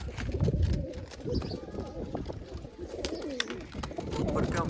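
Pigeons coo in low, throaty murmurs close by, with scattered clicks and rustling around them.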